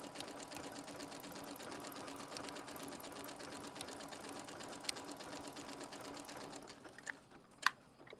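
A home sewing machine runs a steady, rapid stitch for about seven seconds, looping back to overlap the stitching before knotting off, then stops with a few faint clicks near the end; no one speaks.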